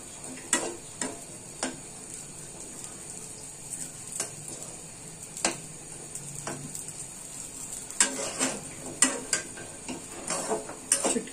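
Dried fish (shutki) frying in a pan and being stirred: a low, steady sizzle with sharp spatula taps and scrapes coming at irregular intervals, close by.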